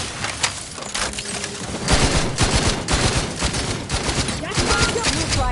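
Dense, rapid bursts of gunfire crackle continuously and loudly in The Outer Worlds 2 on PS5, a sustained barrage of overlapping shots with no pauses.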